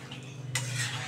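A spoon clinks and scrapes in a pot of prawn curry with papaya, potato and pumpkin after water is added, a soft steady tone broken by one brief louder stir.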